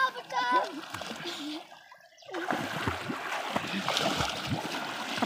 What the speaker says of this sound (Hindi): पानी तो ना उछलाओ, ऐसा ऐसा ना हो।